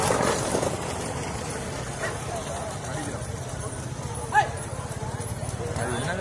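Horses' hooves clip-clop at a bullock cart race in Kallal, Sivaganga, a steady rhythmic patter beneath a loud public-address voice and crowd noise, with a dog barking briefly.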